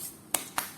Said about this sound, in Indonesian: Cara pakainya juga ditepuk-tepuk ke wajah ya.